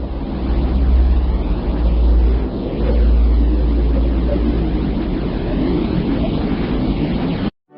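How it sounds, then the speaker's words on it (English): Earth's sound as heard in a space documentary: a dense, steady low rumble with a broad airy roar, like deep wind or a distant engine, that holds continuously before cutting off abruptly. "This is the sound of Earth."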